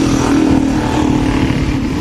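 Motorcycle engine revving steadily up close, loud and continuous, with a rough clattering knock from the right side of the engine running through the drone.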